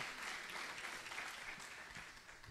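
Faint, distant applause from a church congregation during a sermon, a short even patter of hands heard low and far off.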